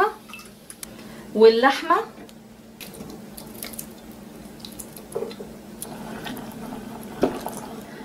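Water is poured into a cooking pot for Mexican beef chilli, a short gurgling pour of about a second, surrounded by a woman's speech and light kitchen noise.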